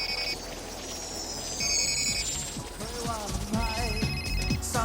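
In a Jean-Claude Van Damme movie scene, a cell phone rings with repeated bright electronic tones in short bursts, mixed with other scene sounds and brief voices.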